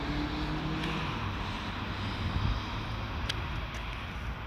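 Distant fixed-wing airplane passing overhead, a steady broad engine drone that stays fairly even throughout, heard outdoors near a hovering Mavic Pro drone.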